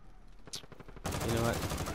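Assault rifle fire in Call of Duty: Modern Warfare, a Grau 5.56, bursts in loud and close after a quieter opening second, a dense rapid rattle continuing to the end.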